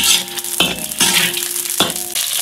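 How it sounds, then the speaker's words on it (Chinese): Scallion, ginger and star anise stir-fried in hot oil, giving a loud, close sizzle broken by several quick stirring scrapes and tosses in a wok. "葱姜八角爆香"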